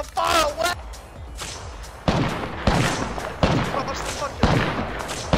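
Rapid bursts of video game gunfire ring out in several sharp volleys, loud and close, each burst decaying before the next, with players talking between and over the shots.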